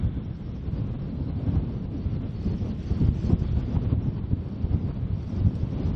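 Strong wind buffets the microphone on a golf course at Polzeath in a continuous low roar with gusty fluctuations, loud and close, with no voices.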